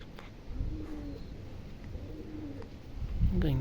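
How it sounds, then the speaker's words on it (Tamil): Several pigeons cooing nearby during racing-pigeon tournament training, soft rolling low coos repeating in a loose rhythm against outdoor background noise, with a louder burst near the end. "பக்கத்துக்கு கொண்டு ஒரு 3 புறா விட்ருக்காங்க."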